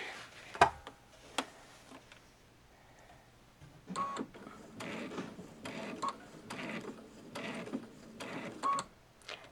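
A Babylock Solaris 2 sewing machine stitches in short mechanical bursts separated by pauses, with clicks and a few faint beeps, fairly quiet and close.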